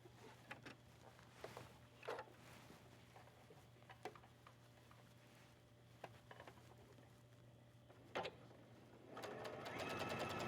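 A sewing machine stitches across a ruffled seam on a fabric scarf, giving faint, quiet mechanical ticking with several brief louder bursts, then a denser, steadier run of stitching near the end, with no talking.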